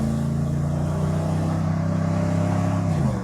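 BMW G80 M3 with a tuned 1000 hp engine approaching, a loud, steady deep exhaust drone that holds close and even throughout, with no talking.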